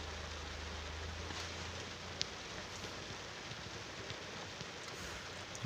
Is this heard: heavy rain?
yes